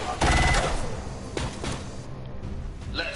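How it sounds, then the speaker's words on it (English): Gunfire from a Spark unit firing at a turret in the strategy game XCOM 2: a loud burst of automatic shots up front, then quieter impacts and whooshing effects trailing off. "I'll have my Spark go ahead and shoot at this turret."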